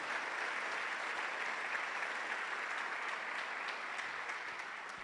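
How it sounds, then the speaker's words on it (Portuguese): A church congregation claps steadily and densely throughout, a full sustained round of applause with no pauses. "Vamos aplaudir ao Rei da Glória."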